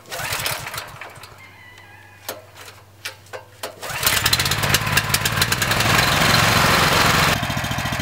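A Berta rotary plow engine idles with a rough, pulsing chug, then revs up to a loud, steady, buzzing roar as it starts down the first pass. Sharp clanks come up close before the roar.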